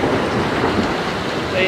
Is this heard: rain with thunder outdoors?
yes